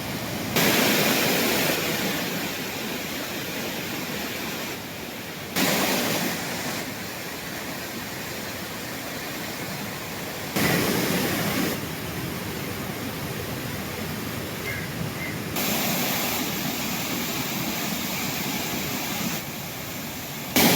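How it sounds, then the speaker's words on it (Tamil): Thirparappu waterfall in flood, water roaring down in a dense, loud, continuous broadband rush, heard alone across several cuts with brief level shifts. "கன்னியாகுமரி மாவட்டம் திருப்பரப்பு அருவியில் ஆர்ப்பரித்து கொட்டும் தண்ணீர்"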